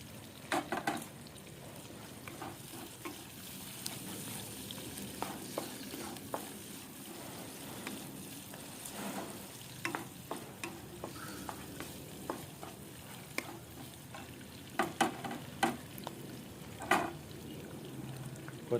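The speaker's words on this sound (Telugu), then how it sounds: "కొంచెం దోరగా వేగాలండి" Green chilies fry in a pan for biryani, giving a continuous gentle sizzle punctuated by scattered utensil clicks and stirring scrapes, with no talking.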